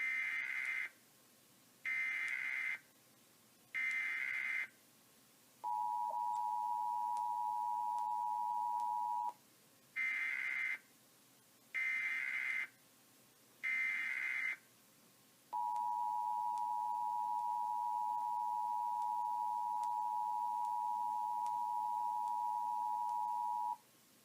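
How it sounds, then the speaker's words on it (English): Emergency Alert System monthly test signal for Maine: three pairs of short, loud two-tone beep bursts, each group followed by a long steady tone, repeated twice, with no voices. "This is a test of the EAS."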